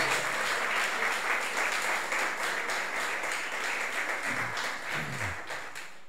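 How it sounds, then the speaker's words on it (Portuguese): A church congregation applauds, a sustained, dense wash of clapping from many hands at even loudness, with faint voices rising briefly near the end. "Quantos de vocês podem aplaudir a Jesus?"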